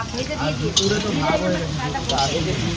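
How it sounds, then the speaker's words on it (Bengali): Potatoes sizzle steadily in hot oil with a dense, continuous frying hiss, joined by an occasional faint utensil tap. The setting is an outdoor picnic cooking session. "এই যে আলু ভাজা চলছে"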